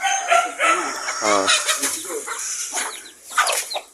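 Several chickens clucking and crowing up close, loud bursts scattered through the clip with a faint voice underneath.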